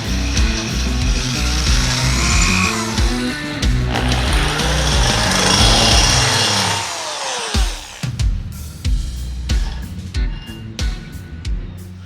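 A loud, steady power drill whines close by for several seconds with pitch shifts while drilling a steel trailer frame rail, then cuts off, leaving scattered metallic clanks and knocks.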